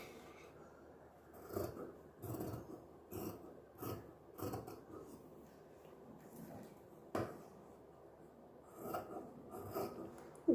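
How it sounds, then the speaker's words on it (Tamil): Scissors cutting the back neck of a blouse from fabric, a series of close, separate rasping snips in an uneven rhythm, heard alone with no talking. "ஓகே, இப்போ நெக்ல கட் பண்ணிடலாம்."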